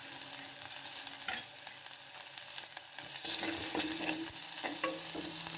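Tempering spices crackle and sizzle in hot oil over a full flame, a dense steady frying hiss with small pops and a few stirring clinks, close and continuous without talk.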